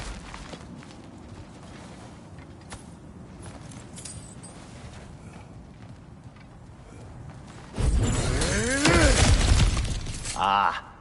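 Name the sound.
smashing through cracked ground in God of War Ragnarok video game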